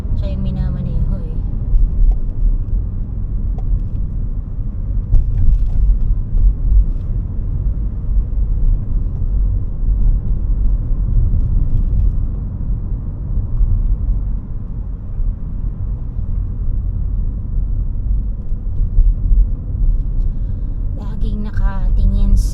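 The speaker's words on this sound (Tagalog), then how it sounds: "Tahimik talagang i-drive nitong hybrid na to eh." A hybrid car drives quietly through Sydney streets, heard from inside as a low, steady road rumble and faint engine hum that stays even under the talk.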